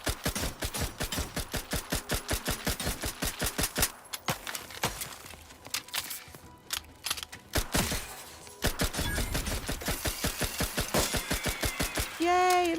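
Rapid bursts of gunfire from The Outer Worlds 2 hammer away in dense rhythmic volleys, pause briefly, then resume in a loud sustained stretch, with a voice talking intermittently underneath.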